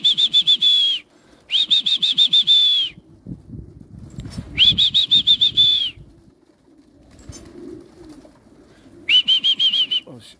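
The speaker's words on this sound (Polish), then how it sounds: "O, następne stado nadleciało." Repeated bursts of fast wingbeats with a high whistling tone as flocks of pigeons fly over in waves, separated by quieter gaps with low rustling.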